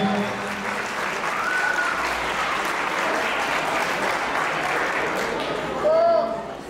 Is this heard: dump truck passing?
no